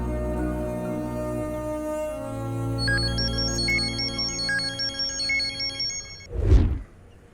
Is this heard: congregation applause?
no